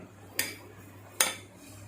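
Two sharp metallic clinks of a utensil against a pot while stirring minced pork in boiling water for a Thai mixed spicy salad, spaced apart over a quiet background.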